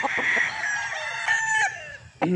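A three-year-old GTP gamefowl broodcock crows once, close and loud, a drawn-out strained call that tails off, followed by a short sharp noise at the end.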